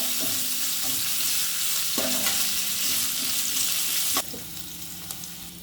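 Curry leaves and spices frying on a low flame for Rajasthani kadhi, a constant close sizzle broken by a few sharp stirring scrapes, easing quieter near the end, no talking.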